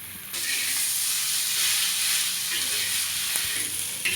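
Potatoes for a samosa filling frying in a pan, giving a steady, fairly loud sizzle that holds throughout with a brief rise in hiss at the start and no voices.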